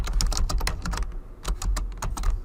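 Rapid, steady typing on a computer keyboard while text is entered into a box on screen: a dense run of close, crisp key clicks with no pauses.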